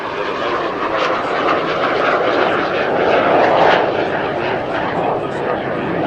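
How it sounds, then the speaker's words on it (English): A North American F-86 Sabre jet roars past at an air show, a loud, steady jet rumble swelling toward the middle as it passes. "just a beautiful pass from the F-86 Sabre."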